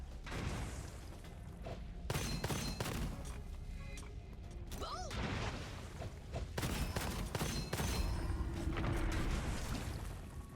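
Grenades and gunfire keep going off in the shooter game Gunfire Reborn: repeated loud thumping blasts and bursts of shots over a constant noisy backdrop, with a brief whooshing tone partway through.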